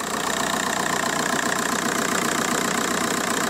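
A VW/Audi/Skoda PD diesel engine idles steadily on all four cylinders, a close, continuous mid-pitched rumble with a fine rhythmic knock and vibration throughout and no talk.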